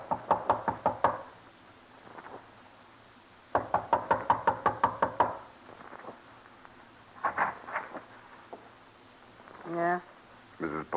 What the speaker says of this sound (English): Knock.